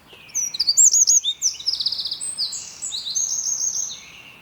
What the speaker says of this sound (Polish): ten strzyżyk to będzie słyszalny na słuchawkach, przyleciał z lewej na prawą